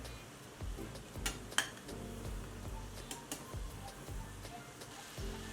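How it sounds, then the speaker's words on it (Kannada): Puffed rice (murmura) vada frying in hot oil gives a soft sizzle, broken by several sharp clinks of a metal utensil against the pan, close and fairly quiet. "ಎರಡು ಸೈಡು ಚೆನ್ನಾಗಿ ಕೆಂಪಗೆ ಕರಿಯೋಣ"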